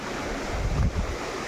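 A flooded river rushes and roars steadily, a broad loud wash with wind buffeting the microphone, swelling briefly near the middle.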